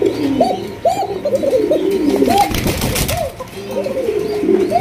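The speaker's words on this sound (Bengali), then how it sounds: "নরের ডাকের স্টাইলটা দেখছেন নি ভাই?" Male pigeons coo repeatedly on a farm, several birds calling in overlapping rising-and-falling hoots, close and clear, with a brief flutter of wings in the middle.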